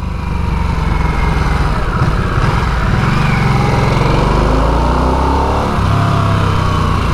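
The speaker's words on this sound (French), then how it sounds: "On entend bien le son de la boîte à air." Loud, continuous Harley-Davidson Nightster engine noise with a throaty, breathy airbox intake roar and a slight shift in pitch toward the end.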